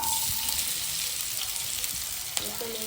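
Chopped onions sizzle and fry steadily in hot oil for a home-cooked chicken curry, a dense continuous crackle with a few small pops near the end.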